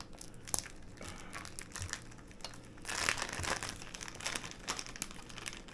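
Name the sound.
struggling to open a resealable plastic package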